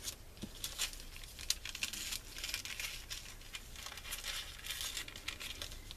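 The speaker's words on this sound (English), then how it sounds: "And then I just cut out the image." Scissors cut out a stamped paper image, a string of quiet snips and soft paper crinkles at close range in a fairly hushed room, with no talking.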